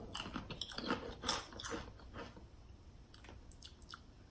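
Crunchy potato chips being chewed up close in a chip taste-testing game, a quiet run of crisp bites and wet crunching that fades toward the end.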